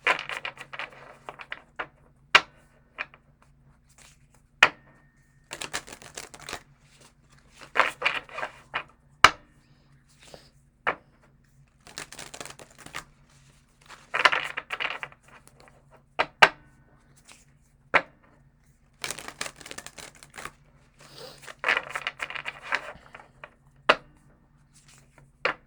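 Tarot cards being shuffled by hand during a reading, a series of soft riffling bursts and sharp taps separated by short pauses, close and fairly quiet.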